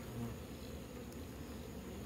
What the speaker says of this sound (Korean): 말벌들이 많으니까 이쪽으로 접근을 안 하는 것 같습니다.